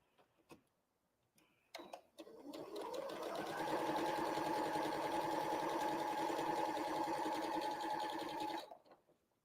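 A sewing machine chain pieces quilt pieces. After a few clicks and handling noises it ramps up into a loud, steady, close mechanical whir that runs for several seconds before stopping.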